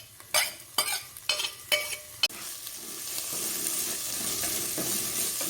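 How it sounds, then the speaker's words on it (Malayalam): Onion, ginger and green chilli sizzle in a pan for a chicken curry while a spoon knocks and scrapes a few times, then the frying hiss settles into a steady bed, close and alone. "ഇത് അതുപോലെ നന്നായിട്ട് ഇളക്കി കൊടുക്കാം."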